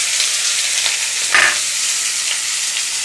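Onions sizzle steadily in a hot kadai while being cooked for a potato and bori curry with onion posto, a dense, even frying hiss filling the whole stretch with one brief louder flare midway.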